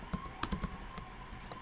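Keys tapped on a computer keyboard while entering a Rhino command, a few quick clustered clicks and then lighter scattered taps, fairly quiet and close with no talking.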